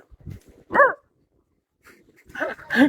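A few sharp dog barks sound close by, a single yelp followed after a pause by two quick barks.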